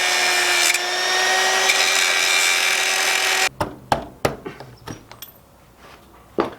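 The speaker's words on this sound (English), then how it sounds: "we're just going to go the old-fashioned way and get a grinder" An angle grinder cutting through a link of a Suzuki SV650S motorcycle chain, heard up close as a loud continuous high-pitched whine for a few seconds, then stopping abruptly, followed by several sharp metallic knocks and clanks.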